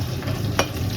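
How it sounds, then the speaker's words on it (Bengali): Fish frying in hot oil gives a continuous close sizzle with a brief sharp pop midway, no voices. "এদিকে মাছ ভাজা হচ্ছে।"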